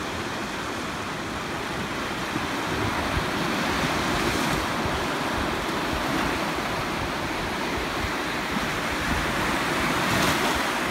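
Steady, continuous Mediterranean surf washing onto a beach at Side, Turkey, a broad rushing roar with gentle swells and a little wind, no voices.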